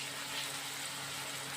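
Water poured into a pan of spiced potatoes, a brief steady rushing splash that holds at an even level for about a second and a half; no speech.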